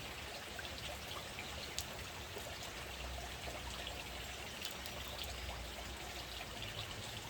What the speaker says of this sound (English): We'll rinse out a chlorine tube.